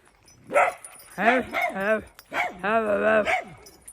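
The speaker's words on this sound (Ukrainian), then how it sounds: "Дзявкаєш." Small dog yapping and whining in a rural yard near a house, several bursts of high, pitched yips and whimpers in quick succession, close and fairly loud, with a person talking briefly nearby.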